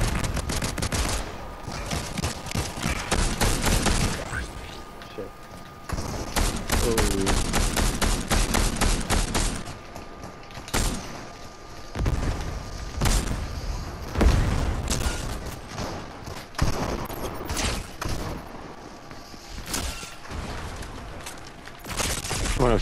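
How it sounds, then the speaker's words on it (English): Repeated bursts of Fortnite gunfire crackle throughout, with volleys of shots and short pauses between them, loud and fairly close, mixed with game noise. "Someone's shooting some shit over here."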